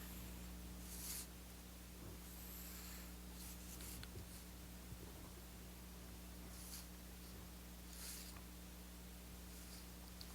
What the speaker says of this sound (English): I'm going to draw it in pencil really quick.